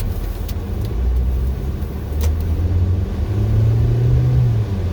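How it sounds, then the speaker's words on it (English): A car heater fan blows with a steady broadband whoosh inside the cabin, its low rumble gently rising and falling in strength throughout, with no talk over it. "You might be able to hear the heater going up and down"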